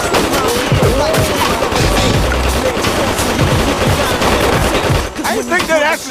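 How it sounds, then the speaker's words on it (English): Rapid gunfire bursts crackle through a cartoon store robbery scene, loud and continuous with overlapping shots, mixed with music and scattered voices, ending in a brief lull before more sharp reports. "I didn't think they'd actually shoot back at us. Well, of course they're shooting back at us."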